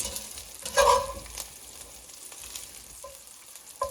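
Vegetables fry in a pan in rendered meat fat and juices for Cajun red beans and rice, giving close sizzling with scraping stirs and a louder burst of clatter near the start.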